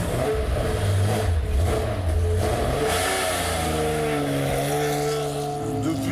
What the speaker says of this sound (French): faire du sport automobile, mais du sport automobile sur une Porsche de compétition